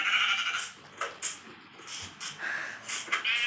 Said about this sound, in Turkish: Koyun mu? koyun var.